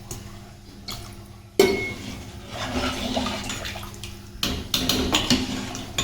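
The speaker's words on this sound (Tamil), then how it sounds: "இதில் தேவையான அளவு தண்ணி ஊற்றிக்கலாம்." Water is poured into a pot of sambar in two splashing bursts, the first starting abruptly and gurgling for a few seconds, the second following after a short pause, close and moderately loud.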